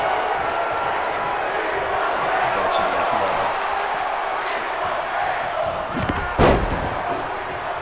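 A wrestling arena crowd in WWE 2K22 roars and chants in a steady, dense wall of noise, with a sharp thud from the ring near the end.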